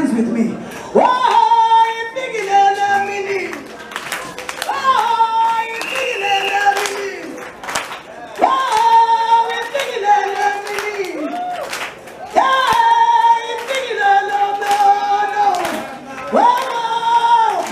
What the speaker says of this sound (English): I want to see you clapping hands with me.